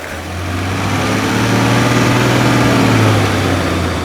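A BMW 3-litre straight-six diesel idles steadily in an Ineos Grenadier, its smooth, low, even rumble loud and close throughout with a slight swell near the end.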